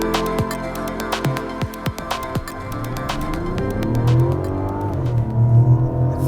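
Mazda CX-70 with a 3.3-liter inline-six mild hybrid engine driving on the road, giving a steady engine and road hum that builds gradually, with a few sharp clicks and knocks early on.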